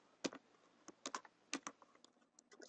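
Quiet, close keystrokes tap on a computer keyboard in short irregular bursts of clicks, with no talking over them.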